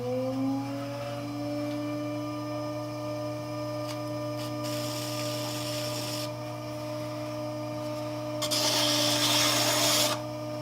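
A clay pot's foot is trimmed on a spinning potter's wheel; a steady motor hum runs throughout, broken by two harsh, close scraping passes of the trimming tool, the second louder.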